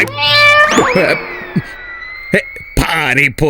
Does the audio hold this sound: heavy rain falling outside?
no